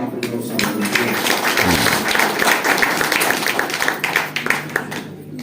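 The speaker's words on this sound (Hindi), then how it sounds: "तालियां बजाकर आप उनका उत्साहवर्धन करें" At a Delhi union event honoring twelve rat miner workers, an audience claps in encouragement, a lively burst of many hands clapping, fairly loud and continuous, with some voices underneath.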